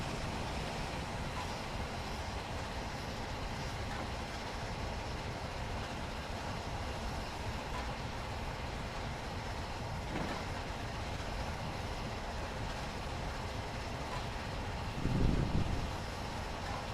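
A Flying Scotsman steam locomotive rolls along the East Coast Main Line between London and Peterborough in the Train Simulator Classic game, giving a steady, loud rumble of wheels and track with no talk and a brief low thud near the end.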